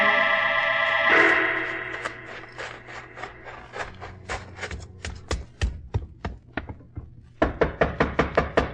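Knocking on a door in a 1949 Sherlock Holmes radio drama set at a cemetery caretaker's gate. A tone fades first, then come sharp, close raps in uneven groups, ending in a fast, louder flurry of knocks.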